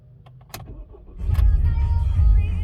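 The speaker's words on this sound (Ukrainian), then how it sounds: "Зараз запустимо автомобіль." An Opel Astra K 1.6 CDTI diesel engine cranks and catches, settling into a steady low rumble that fills the rest of the clip after a few clicks and rustles.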